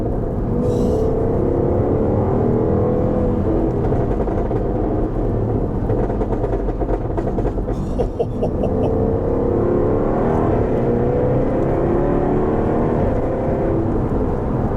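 A car engine is held and revved at high RPM to provoke backfire pops, giving a loud, sustained, droning roar with rising and falling pitch and a cluster of brief crackles near the middle, no talking.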